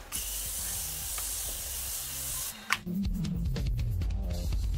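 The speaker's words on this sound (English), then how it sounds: "I'm going to spray with the Morphe again." A continuous aerosol spray of Morphe makeup setting spray hisses close by for a few seconds, then stops with a faint click and shuffling.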